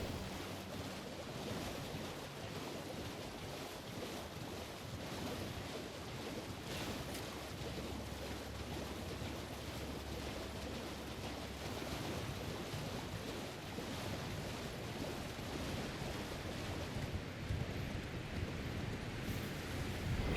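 River water in Elden Ring Shadow of the Erdtree rushes and washes continuously for about twenty seconds, soft and steady with a windy, surf-like wash that swells slightly toward the end, no voices.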